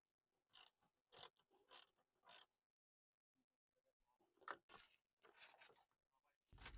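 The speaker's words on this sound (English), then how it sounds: "we can begin installing the bolt back in and tighten the side up" A ratchet tightens a bolt on a Rivian R1T/R1S center console cage: four sharp, quiet clicking bursts, a long pause, then a few softer ratchet strokes, with no talk.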